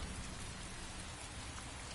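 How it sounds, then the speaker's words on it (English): Steady rain falling in the video game Heavy Rain, a dense even hiss of drops that stays constant and moderately quiet throughout, with no voices. "It's not even raining that hard."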